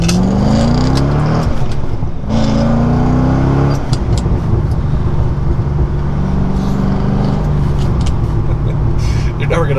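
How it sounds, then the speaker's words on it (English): A C6 Corvette accelerating hard on the street, its engine roaring loud and close as revs climb steeply, briefly drop at each gear shift, then rise again through several gears. "it just screams whenever you do first, second gear pulls"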